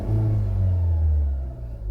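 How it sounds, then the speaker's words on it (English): A Mahindra XUV700 engine rumbles close by with a steady low-pitched drone, swelling gently through a short rev and easing back, no voices present. "I'll give you a little rev."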